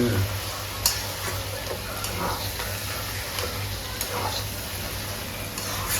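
Soybean chunks, cauliflower and potato fry in a pan with a soft, steady sizzle, broken by a few light clicks of a spoon stirring against the pan. The level stays quiet and even.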